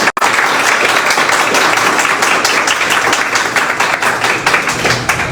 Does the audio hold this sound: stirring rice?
no